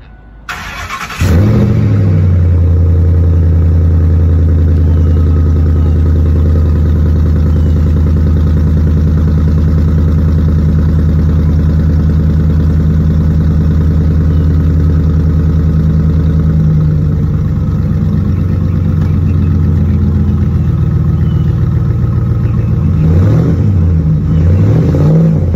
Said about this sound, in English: I'll start it up for y'all so y'all can see how loud it is and see exactly how the exhaust works, because it's very loud.